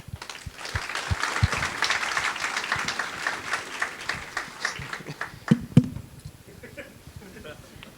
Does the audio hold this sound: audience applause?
yes